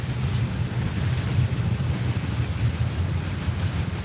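A train rolls through Homestead Falls in a continuous low rumble and rushing roar, steady and fairly close, with no pauses and no talk.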